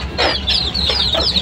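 Young chickens on a farm cluck and cheep in a quick run of four or five bright, close calls over a short moment, with no talking.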